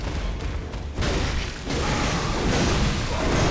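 A thrown Molotov cocktail bursts into a loud, roaring blast in the Bloodborne video game, with dense crackling noise that surges at about one second and again at about 1.7 seconds, then holds steady to the end.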